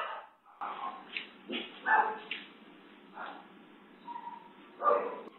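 A dog barks repeatedly, yipping and whimpering in short uneven bursts as a man shoos it away with a slipper toward a kitchen, with muffled household sounds between barks.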